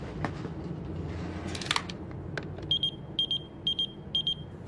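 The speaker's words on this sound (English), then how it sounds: "Andre, how could you get a beeper, especially after I told you not to?" Pager beeping in short repeated bursts, four quick electronic beep groups at a steady rhythm over a low background murmur of a room, moderately loud and close.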